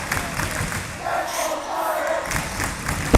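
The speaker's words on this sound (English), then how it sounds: "Crowd really getting into it." A high school boys basketball crowd roars and cheers steadily in a gym late in the fourth quarter, a dense, sustained wash of shouting voices that swells slightly and then holds.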